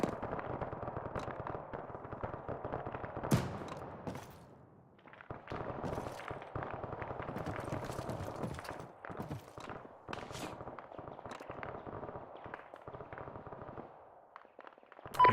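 Gunfire crackles in an ArmA 3 firefight, sharp shots and short bursts popping irregularly at mid distance over a steady background rumble, with a brief lull partway through.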